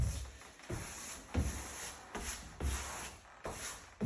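Excess grout wiped across tiles, repeated close rubbing and scraping strokes in a loose rhythm of about one every second, each with a soft thump as it starts, with no talk.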